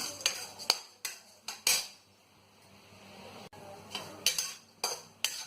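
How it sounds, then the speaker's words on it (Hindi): Melon seeds roast in desi ghee in an iron kadhai: a spatula knocks and scrapes against the pan in sharp, irregular metallic clinks, several in quick clusters with a short lull between, close and fairly quiet, with no talk. "खरबूजे की मींग हल्की हल्की भून रही है।"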